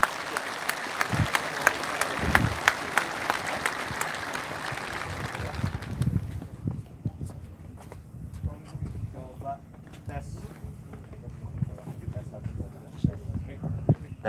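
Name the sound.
audience applause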